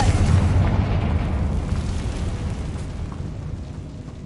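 A Confringo spell blast in Hogwarts Legacy lands as a loud, deep boom that rumbles and slowly fades over several seconds.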